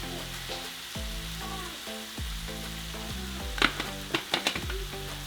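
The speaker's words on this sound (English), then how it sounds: "we're just going to cook our shrimp until they turn into a beautiful salmon color" Shrimp seasoned with black pepper and garlic salt frying in a pan, a loud, steady sizzle with a few sharp pops and spatula scrapes near the end, no voices.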